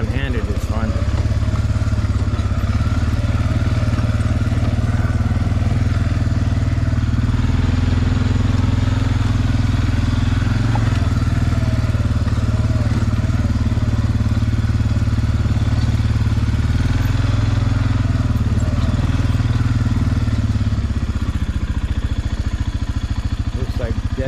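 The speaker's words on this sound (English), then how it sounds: "Driving the four-wheeler one-handed is fun." Loud, continuous engine drone of a four-wheeler ATV being ridden along a wooded trail, holding a fairly steady pitch with slight rises and dips, then dropping away near the end.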